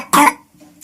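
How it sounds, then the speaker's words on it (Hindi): A child gives a single sharp, loud cough up close, a short burst followed by quiet household background. "बच्चे को बहुत खांसी हो गई।"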